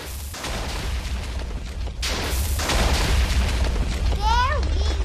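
TNT blocks detonate in a block-building video game, with a sudden booming blast near the start and another around two seconds in, each trailing into a noisy rumble; a high, warbling voice-like sound chirps near the end.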